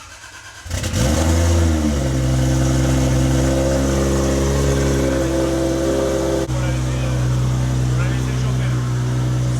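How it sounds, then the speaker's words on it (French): A tuned Subaru fitted with a 2JZ engine making over 1000 horsepower roars to life. It settles into a loud, close, steady rev with a pitch rise after start-up and a brief change partway through. "on va vous faire écouter un peu le son quand même de la bagnole"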